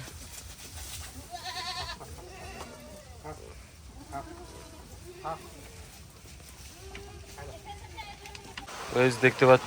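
Native goats on a farm in Jhargram bleat several times at moderate distance in rainy-season weather while a person talks nearby, with a louder, closer bleat at the end.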